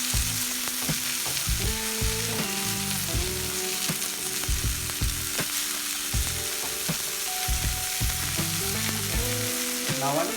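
Spinach and lentil curry with tomato paste sizzles in a pan while a spoon scrapes and stirs it, giving repeated clacks over a steady frying hiss, close and with no talking.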